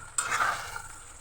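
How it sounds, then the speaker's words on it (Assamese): Chicken curry stirred in a pot once the lid comes off, with a short close scraping and sizzling swirl that starts abruptly and fades over about a second. "ঢাকনিখন গুচাই এবাৰ লৰাই দিলোঁ।"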